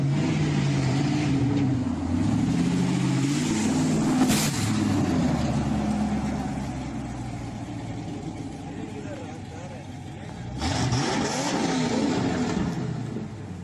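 Very fast car accelerating and revving hard, a roaring engine with rising and falling pitch sweeps, loud and close, fading mid-clip before surging again.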